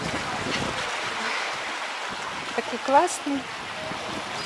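A steady breeze rushes and buffets the microphone outdoors at a Bulgarian seaside resort, with a person speaking briefly near the end.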